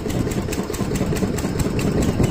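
A water pump engine runs at a steady idle close by, giving a continuous, even mechanical chug with a faint rhythmic knock throughout, with no talking over it.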